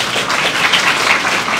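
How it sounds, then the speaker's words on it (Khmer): Audience at a school education ceremony applauds steadily, a dense, even wash of many hands clapping close by with no pauses. "គ្រប់គ្នាណាសូម អបអរសាទរមួយណាឥឡូវប៉ុណ្ណឹងណា"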